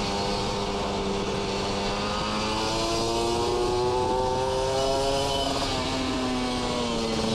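A Kawasaki Ninja RR motorcycle fitted with an R9 Neo Mugello Carbon racing exhaust roars continuously as it rides along a winding road. The engine pitch climbs and eases steadily, loud and close, with no talking.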